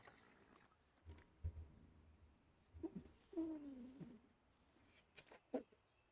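A pet cat gives a few short complaining meows, close and fairly quiet, squeezed between a person and a desk microphone, with soft rustling in between.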